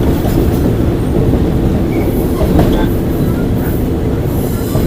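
Train running on a jungle railway in Thailand, continuous loud rumble of wheels on track with faint squeals and occasional clicks throughout, no voices.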